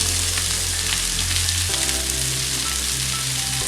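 Green chillies, onion and garlic frying in a hot pan, a close, continuous sizzle with crackling spatter and a brief stir partway through, no voices.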